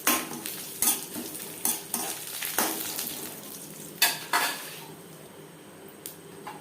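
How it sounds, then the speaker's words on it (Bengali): Three dry red chillies, panch phoron and a bay leaf fry in hot oil for khichuri, a loud sizzle broken by sharp, repeated clanks of a metal spoon against the pan that fade toward the end. "পাঁচফোড়ন, তেজপাতা লঙ্কার সাথে ভেজে নেওয়ার পর গ্যাসের ফ্লেমটা বন্ধ করে দেব"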